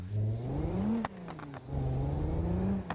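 A car engine in the BeamNG driving game restarts and revs, rising and falling engine tones broken by a brief dip near the middle before climbing again, with no voices.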